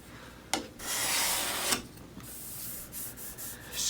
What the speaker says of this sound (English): Scraping, while it takes the dirt off, it really pushes that grain down.